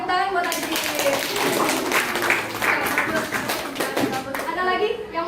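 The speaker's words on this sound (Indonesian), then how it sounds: "tepuk tangan buat Adi." Students in a chemistry classroom clap for a classmate's presentation, a dense, close burst of hand claps lasting several seconds with a few young voices mixed in.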